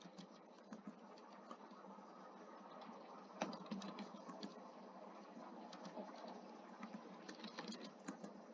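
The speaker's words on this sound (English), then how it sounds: "So let's type something." Typing on a computer keyboard: quiet, rapid, uneven clicking that runs steadily throughout, heard alone without talk.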